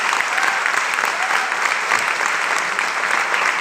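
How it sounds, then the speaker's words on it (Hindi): Steady, dense audience applause fills the hall for a few seconds, loud and continuous, celebrating the success of Chandrayaan. "चंद्रयान की सफलता के लिए जोरदार तालियां बजनी चाहिए।"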